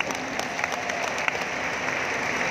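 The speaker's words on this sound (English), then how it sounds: "applause for them" Steady applause from a church audience at an International Missionary Day gathering, a continuous dense clapping with a few sharper claps standing out, heard at moderate distance.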